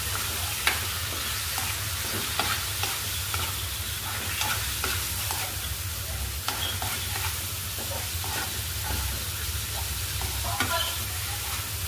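Chicken liver frying in a pan as it is shaken, giving a steady broadband sizzle with scraping and stirring clatters throughout, fairly close and even in level.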